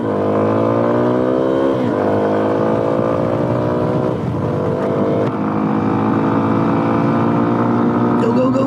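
A 17-horsepower Yamaha XT250 motorcycle accelerating on an evening ride, its engine note climbing through several gears in repeated rising sweeps, loud and close throughout.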